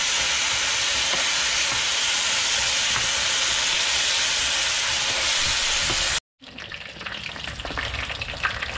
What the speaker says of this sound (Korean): 새우 두 번째 튀기입니다